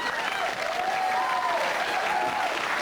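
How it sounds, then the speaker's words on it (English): A studio audience cheers and applauds in a steady, dense wash of clapping with voices rising through it, loud and sustained for the whole stretch. "you're all cheering"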